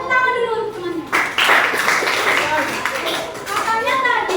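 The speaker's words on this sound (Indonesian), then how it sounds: "Tepuk tangan dulu untuk temannya." Classmates in a classroom break into clapping, a burst of scattered handclaps that begins after a teacher's voice and carries on under further talk.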